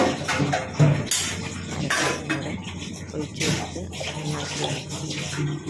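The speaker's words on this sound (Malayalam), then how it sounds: "ഒരു അര ഗ്ലാസും കൂടെ വെള്ളം ഒഴിച്ച് കൊടുത്ത്" Water is poured from a glass into a cooking pot of drumstick leaf curry, with splashing and pouring bursts alongside clinks of utensils and the pot.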